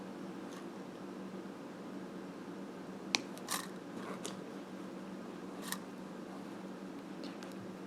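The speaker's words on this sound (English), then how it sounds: "We are going to cut 2 inches of wire." Flush cutters snip jewellery wire in a quiet room, a few small sharp clicks spread over several seconds against a faint steady hiss.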